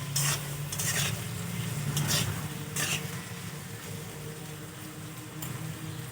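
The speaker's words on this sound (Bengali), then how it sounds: "কাজু আর কিশমিশগুলো দিয়ে দেবো, আর কাজুগুলো দিয়ে দেবো। একসাথে আমি ভালো করে ভেজে নেব।" Cashews and raisins frying in oil in a pan for fried rice, heard as loud sizzling with repeated scraping stirs and clinks of a spatula against the pan, strongest at the start and then settling into a steadier fry.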